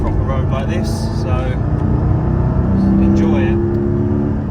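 A Porsche GT4 cruises along an open European road, its engine a steady, continuous drone with a subtle rise in pitch late on, heard from inside the car with a voice talking over it throughout.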